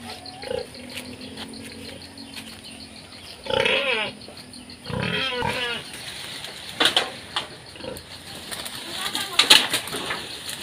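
Farm pigs after Typhoon Odette in the Philippines grunt and squeal in loud bursts through the middle and end, with birds cooing, steady wind noise and a voice in the background.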